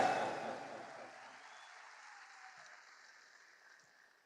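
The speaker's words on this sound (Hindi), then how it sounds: "मैं आदरणीय त्रिलोक छाबड़ा जी के लिए मैं भी ताली बजाना चाहता हूं" An audience at an RCM stage event applauds, a burst of clapping that is loudest at the start and then fades away into quiet.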